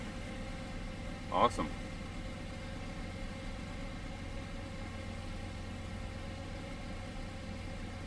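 A 408 cubic inch LS V8 fitted with 100 lb/hr fuel injectors idles on its first start with a steady, even low rumble throughout, while someone briefly speaks over it.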